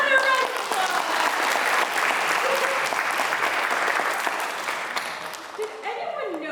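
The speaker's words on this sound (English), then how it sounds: "for another round of applause." A room full of people claps steadily for several seconds after a song recital, dense and lively, fading slightly at the end as a voice comes in.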